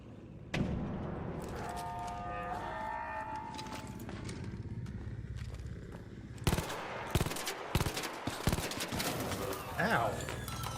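Gunfire in the video game Arc Raiders, a burst of sharp shots and impacts in the second half that cut through steady game ambience, with a voice talking earlier on.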